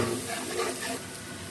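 Whole spices, with cumin, garlic and onion, fry and crackle in a pan for a desi-style aloo chicken, a steady close sizzle with light stirring scrapes and no voices.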